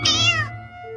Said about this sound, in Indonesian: semuanya lihat ke kucing mengemaskan ini